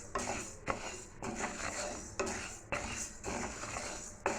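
Ingredients are dry-roasted and stirred in a kadai on a stove over a medium flame, with repeated sharp scrapes and clinks of a metal spoon against the pan at a regular rhythm, close and clear.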